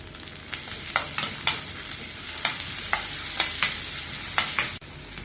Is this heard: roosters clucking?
no